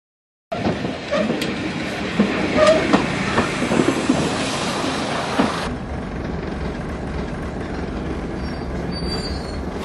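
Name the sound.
train running on rails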